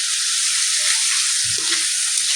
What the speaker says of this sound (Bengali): মাংসটা দিয়ে দিলাম এবার।